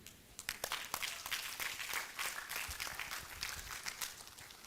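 Scattered audience clapping at a university department meeting, a modest crowd with distinct individual claps, fairly faint and steady throughout.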